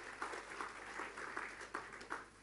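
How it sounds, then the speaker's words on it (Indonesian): Applause from a church congregation during an Indonesian sermon, a moderate wash of clapping with a few sharper bursts, heard at some distance in a reverberant hall. "berikan tepuk tangannya buat Tuhan Yesus"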